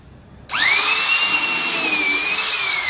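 A power drill bores holes through a stack of corflute posters, starting abruptly with a rising motor whine that settles into a steady, loud, high-pitched drone that runs on without pause.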